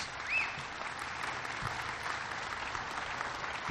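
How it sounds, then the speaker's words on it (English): An audience applauds the governor at the SolarCity GigaFactory topping-off celebration: a dense, even wash of clapping heard from a distance, fairly quiet and unbroken. "Let's give our governor another great big round of applause."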